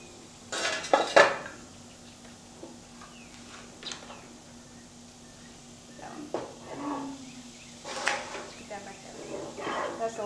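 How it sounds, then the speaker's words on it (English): A metal lid lifted off a canning pot of peaches in homemade syrup gives a few close clanks and clinks of cookware, with softer handling clatter in between against a quiet kitchen hum. "It's been 5 minutes, so we're gonna take the lid off"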